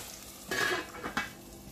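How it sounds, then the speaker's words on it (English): A lid set onto a pot of spring onions and potatoes frying on low flame, a short metallic clatter and scrape over soft sizzling. "And I'll cover the pot."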